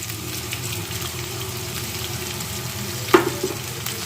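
Onions for tomato onion chutney frying in a pan give a steady close sizzle, with one sharp clack of a utensil near the end and no voices.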